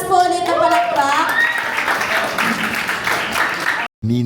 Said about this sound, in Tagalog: isang malakas po ulit na palakpak.